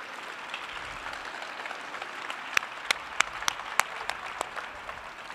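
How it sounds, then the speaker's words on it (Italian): Applause from an audience at an Italian graduation ceremony, a quiet, steady patter of many hands with a few sharper individual claps standing out midway, no voices over it. "facciamogli un applauso"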